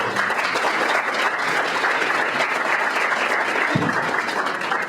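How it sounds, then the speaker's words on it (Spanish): An audience at a panel on media and press freedom gives a loud, sustained round of applause, dense even clapping with a brief low thump partway through. "Les pido un aplauso."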